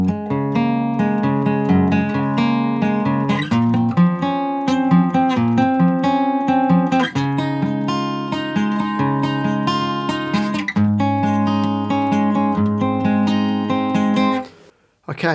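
Guitar in standard tuning plays the first verse and chorus of a song, a steady run of ringing chords and melody with a short dip near the end, with no voices over it.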